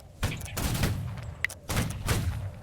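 A ragged volley of muzzle-loading muskets fired by reenactors on command, two loud, booming bursts of overlapping shots roughly a second apart, close by and outdoors.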